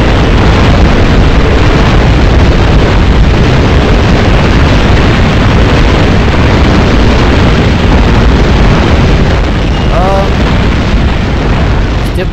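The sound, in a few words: bombs exploding in the video game Call of Duty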